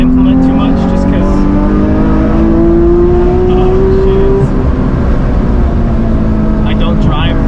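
A Porsche GT3 Touring engine held in third gear gives a loud, steady drone with rising harmonic tones that climb and settle across the drive, close and continuous.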